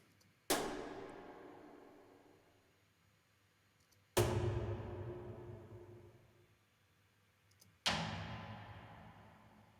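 Three percussive stinger hits played in sequence in the Wwise audio engine, each a sharp attack followed by a long fading decay, evenly spaced about every three and a half seconds, clean and alone.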